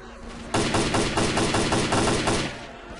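Automatic gunfire in the video game Stalker Clear Sky: a loud, rapid burst of evenly spaced shots lasting about two seconds, then cutting off, with no voices.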